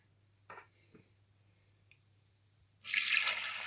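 Water pours steadily into a cooking pot during vegetarian asparagus soup preparation, a loud close splashing rush starting abruptly after a few faint kitchen clinks.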